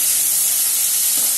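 Tomatoes sautéing in a hot pan for vendakkai poriyal, a loud, steady, close sizzling hiss with no pauses and no voices.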